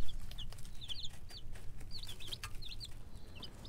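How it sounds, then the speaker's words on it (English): Hens of a single breed cluck softly in a fenced farm pen, short repeated chirpy calls scattered over a low steady background rumble, with no talking. "These are all hens."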